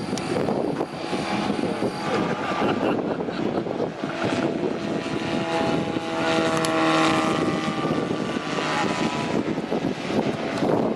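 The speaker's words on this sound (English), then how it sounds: "Model's being flown very difficult, scale speed, keeping the speed down, displaying the aircraft beautifully to the whole flight line." A large radio-controlled scale model aircraft flies a display at the RAF Cosford air show, its engine droning loudly and continuously with shifting pitch, under a busy outdoor crowd background.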